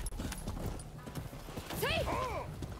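Horses in the samurai action game Rise of the Ronin clip-clop steadily at a trot, with loud whinnies rising partway through over a busy game soundscape.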